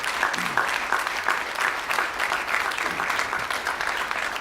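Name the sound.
audience applause after presentation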